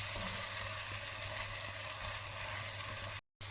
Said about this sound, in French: On remue et on laisse évaporer le vin blanc